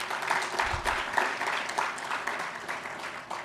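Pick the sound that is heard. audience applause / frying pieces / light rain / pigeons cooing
audience applause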